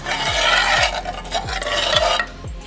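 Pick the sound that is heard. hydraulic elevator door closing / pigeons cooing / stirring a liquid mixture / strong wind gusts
stirring a liquid mixture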